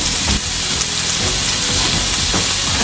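Food sautéing in a pan, a continuous loud sizzle with scattered crackles and occasional stirring scrapes, close and alone.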